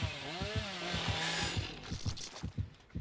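A chainsaw in the Dead by Daylight video game revs in a steady, pulsing rhythm of repeated strokes, loud and close against a background of game sounds, with no voices over it.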